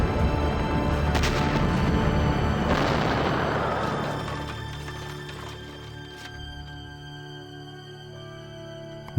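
A loud, deep explosion boom that rolls out and fades slowly into a lingering low rumble and hum.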